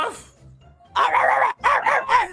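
A dog barks close by in three quick, loud bursts after a brief whimper-like sound and a faint voice at the start.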